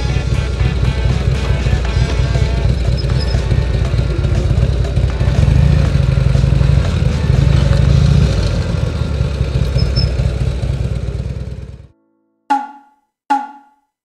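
A motorcycle engine runs loudly and close for most of the clip, then cuts off into silence in a parking lot at Shiofune Kannon temple in Ome, Tokyo, followed by two short clunks.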